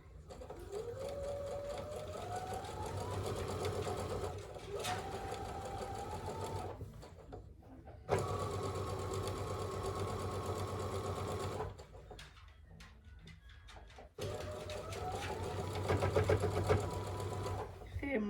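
A domestic sewing machine runs in long steady bursts while quilt pieces are stitched, its motor whine rising and settling, with short pauses between runs and brief talk nearby.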